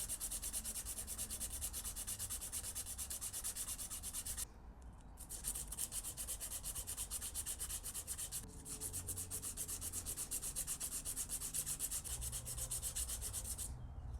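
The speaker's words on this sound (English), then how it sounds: "Run it one more time with a medium grit sandpaper first." Steady abrasive rubbing of medium grit sandpaper on a golf club ferrule, continuous and close, with brief pauses near 4.5 and 8.5 seconds and a final one near 14 seconds.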